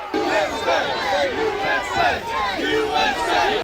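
A rioting crowd storms the outer barricade at the U.S. Capitol on January 6, a dense, loud roar of shouting voices and battle cries that swells continuously with no pauses.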